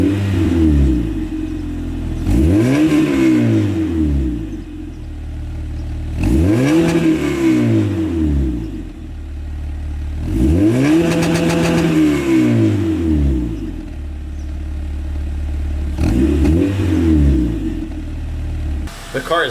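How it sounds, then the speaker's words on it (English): A Honda Civic fitted with a K20 engine revs repeatedly, four or five sharp throttle blips rising and falling in pitch with idle between them, close and loud. "let's get some revs and see how she sounds"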